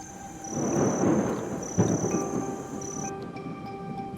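Thunder from the first storm in almost a year rolls over the parched Pantanal landscape, a deep swelling rumble with a sharper crack partway through, loud and unaccompanied by voices.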